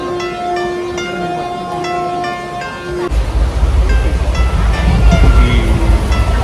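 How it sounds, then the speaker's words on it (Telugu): A train arrives at a station, a long horn blast sounding first before a loud rumble and rattle of wagons rolling in close by. "మొత్తం మీద ట్రైన్ వచ్చింది."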